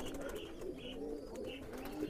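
Teddy pigeons in a loft give low, soft repeated coos, several birds overlapping close by, with occasional higher chirps above a steady murmur.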